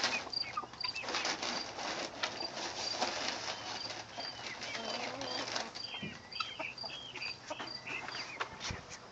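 Quail in a breeding pen make a busy mix of soft chirps, peeps and light scratching and wing flutters, fairly close, with brief rustling movement throughout.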